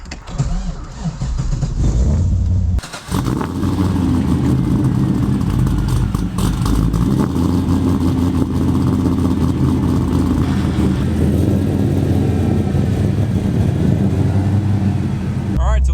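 A V8-swapped Honda car starts up and drives off, the engine catching with a sharp burst after a brief quieter stretch, then a loud sustained rumble and revving that holds steady close by, with a voice talking over it.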